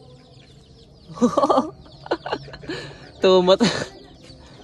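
Two hens settled at the same nesting spot for egg laying give short bursts of clucking between brief moments of a man's nearby speech, close and moderately loud.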